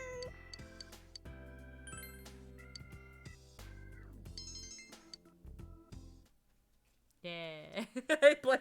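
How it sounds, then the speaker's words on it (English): Cats meow in the video game Persona 4 Golden, soft synthetic mews over chiming game music, followed by a louder burst of several closer meows at the end. "There's more cats here."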